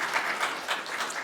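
An audience at a city council meeting claps steadily, a dense, continuous patter of many hands filling the short stretch without any voices over it.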